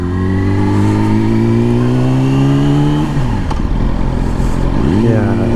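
A 2020 Yamaha R6 sports motorcycle engine drones steadily in traffic, its pitch climbing, dropping sharply around a gear change, then rising again as it accelerates, loud and close throughout.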